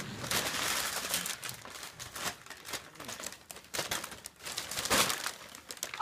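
Paper crinkles and crumples close by in irregular rustling bursts, with brief quieter pauses between handfuls.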